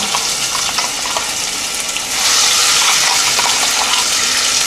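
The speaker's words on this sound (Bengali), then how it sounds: "আমি অয়েলটা একটু বেশি ইউজ করেছি বন্ধুরা, আপনারা চাইলে এর থেকে কম অয়েল ইউজ করতে পারেন। দিয়ে দিচ্ছি পেঁয়াজ বাটা" Onion paste, ground from two medium onions, drops into plenty of hot oil for chicken rezala, giving a loud, steady close sizzle that swells and hisses more strongly partway through, with no voices.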